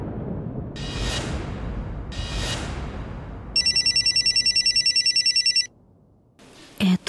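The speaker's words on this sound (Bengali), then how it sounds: "এত সকালবেলা আবার কে ফোন করলো?" A telephone rings in a Bengali TV serial scene: two whooshing swells first, then a bright electronic ringtone pulses rapidly for about two seconds and stops, followed by a short loud hit.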